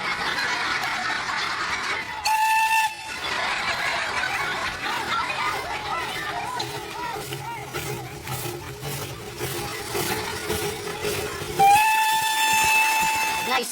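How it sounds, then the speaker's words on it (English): A steam train runs past a Slovakian football ground during a match, a steady rumbling chuff carrying along the track, with sharp whistle blasts near the start and again toward the end. "If there were more steam trains going up and down."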